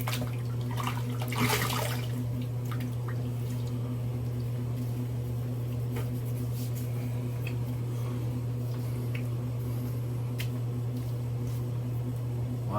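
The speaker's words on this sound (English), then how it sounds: "Let's rinse." Tap water runs steadily while someone rinses off during a wet shave with shave soap, a continuous rushing flow with a strong low hum beneath it and a few faint ticks.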